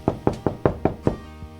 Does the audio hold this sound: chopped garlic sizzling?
no